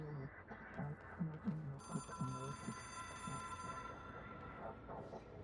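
A telephone rings in the Control video game: an object-of-power phone that connects to no ordinary network. The bright, steady ringing tone sits mid-level under a low speaking voice.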